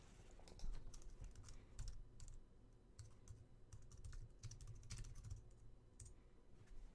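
Quiet, rapid clicking of keys on a computer keyboard as a Linux terminal command is typed, irregular bursts over a low background hum.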